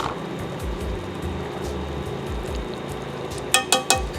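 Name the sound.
sauce boiling in a pot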